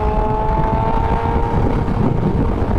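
Loud, steady engine drone of a 2020 BMW S1000RR liter-class sport motorcycle running in race mode, a continuous close-up roar with rough wind-buffeted texture and no talk.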